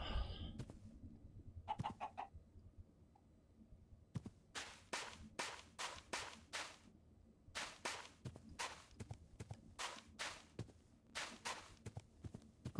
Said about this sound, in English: Got chickens.